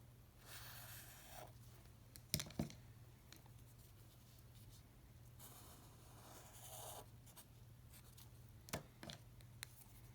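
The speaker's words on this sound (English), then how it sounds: "I'm going to draw a sketch on my paper while you do that." A pen or pencil sketches on paper, quiet and close, with soft scratchy strokes coming in bursts, a few sharper taps between them and a steady low hum underneath.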